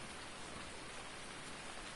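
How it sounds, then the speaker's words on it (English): Steady rain falling in Farming Simulator 19 on the Ravenport farm map, a continuous broadband hiss that fills the scene evenly with no breaks or voices. "And it's raining."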